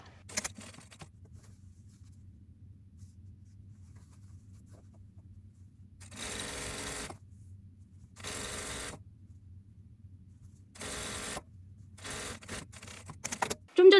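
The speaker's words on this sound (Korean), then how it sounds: "안쪽 선도 박음질 해줍니다" A sewing machine stitches the inner seam of cropped trousers in several short bursts of rapid whirring, separated by quiet pauses, close and clear with no speech.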